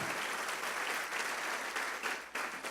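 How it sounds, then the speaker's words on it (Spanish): A church congregation claps during a Spanish-language service, a dense, continuous burst of applause filling the whole moment at steady volume. "Den un aplauso al Señor."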